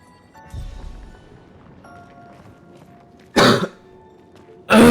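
Two loud, close coughs burst out near the end, one then another about a second later, over a quiet background of soft game music and ambience.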